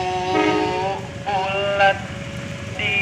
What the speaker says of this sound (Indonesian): Kereta api Parsel menggunakan lokomotif CC206 ya.